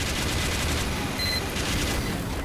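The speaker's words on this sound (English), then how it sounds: "The gun's shooting again, which means I probably have to go down and kill something." A Team Fortress 2 sentry gun fires a continuous rapid burst of gunfire, dense and steady throughout, with a brief higher ping near the middle.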